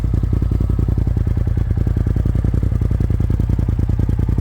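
A loud, close Polaris RZR XP Pro turbo UTV engine idles through a Trinity full exhaust system, with a rapid, even pulsing exhaust rumble, steady throughout with no voices.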